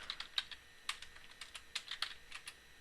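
Quick, light keystrokes on a computer keyboard as network switch commands are entered, an uneven run of close taps at low volume.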